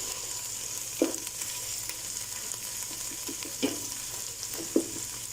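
Garlic paste fries in a pan for vegetable rice, giving a soft, continuous sizzle broken by three clear spoon-against-pan knocks spaced about a second or more apart, close by and with no voices.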